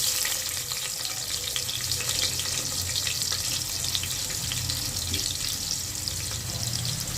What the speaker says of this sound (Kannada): ಸ್ವಲ್ಪ ಹಿಂಗ ಹಾಕೋತಾ ಇದ್ದೀನಿ ಸ್ವಲ್ಪ ಈರುಳ್ಳಿ